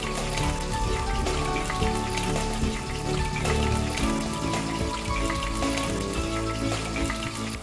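Salted vegetables frying in a pan for a pork-in-milk dish, a loud, dense, steady sizzle and crackle heard close up throughout, with no voices.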